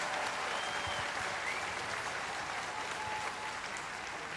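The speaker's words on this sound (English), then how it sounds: "Another round of applause, please, for this incredible woman." A large crowd at an outdoor vigil at Bondi Beach in Sydney, honoring victims of a mass shooting, applauds in a sustained, even burst of clapping that fills the whole stretch.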